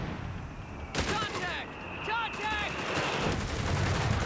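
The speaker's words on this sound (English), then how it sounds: "Great shot there from the anti-tank half-track" Anti-tank half-track fire in the Company of Heroes 3 strategy game: sharp gunfire bursts and blasts over a battlefield din, with a couple of whistling ricochet-like tones, moderately loud among other combat noise.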